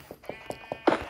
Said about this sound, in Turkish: Kuzu buldum şurada iki.